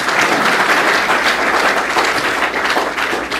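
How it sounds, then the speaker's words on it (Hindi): Sustained applause from a crowd of NCC cadets at an army training address in Patna, dense steady clapping filling the whole stretch without a break. "इसके लिए ताली बजाइए।"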